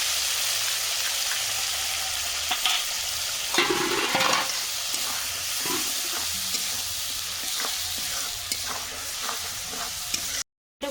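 Onion and ginger paste frying in oil left from frying fish, potatoes and beans for a fish curry, a loud, close, steady sizzle broken by spoon stirring and scraping, ending abruptly in silence.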